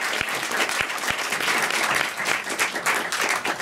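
A cinema audience applauds actor Vinicio Marchioni at a film screening Q&A in Oslo. The sustained, dense clapping from a full room is loud and continuous throughout.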